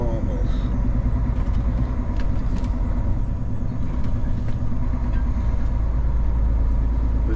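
Queuing road traffic near Hull, heard as a steady, dense low rumble of engines and tyres from inside a moving vehicle, constant and fairly loud throughout.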